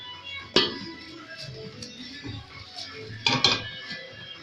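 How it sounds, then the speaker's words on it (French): Large stainless steel casserole pot and its lid being handled, two sharp metallic clanks with lighter taps and rattles between them, close by. "Voici par exemple une grande casserole. Voici son couvercle."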